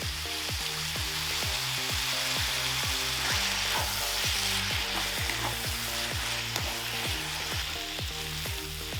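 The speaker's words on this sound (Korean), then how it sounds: "불려놓은 당면을 넣고 볶아주겠습니다" Soaked glass noodles stir-fried in a hot pan for gochu japchae, a steady loud sizzle with regular scraping strokes of a utensil stirring throughout, no talking.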